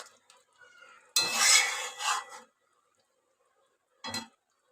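A vegetable curry is stirred in a pan, giving a close scraping, rubbing burst of spoon against metal, then a pause and one shorter scrape.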